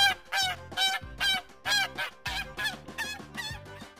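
A goose runs loose from a farm shed and honks loudly and repeatedly, each harsh call spaced closely after the last.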